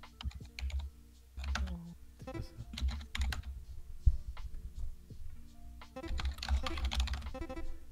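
Rapid typing on a computer keyboard during a Skribbl.io drawing game, with dense clusters of clicky keystrokes that come and go in bursts, close and fairly loud, with a brief spoken word.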